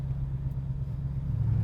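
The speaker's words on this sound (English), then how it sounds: "So you get that awesome exhaust note" A Ford F150 Raptor R's exhaust note while driving, a continuous low droning rumble with slight swells in level, heard alone without talk.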